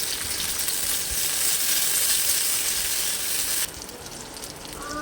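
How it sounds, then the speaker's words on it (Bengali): Raisins fry in white oil in a wok with a steady, bright sizzle that holds evenly, then drops to a quieter hiss near the end. "কড়াইয়ের মধ্যে একটু সাদা তেল দিয়ে দেবো আমি এখানে কিশমিশ নিয়েছি কিশমিশটা ভেজে নেব"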